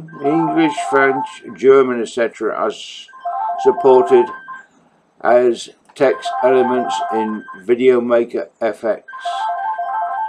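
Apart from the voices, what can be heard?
telephone ringing in the background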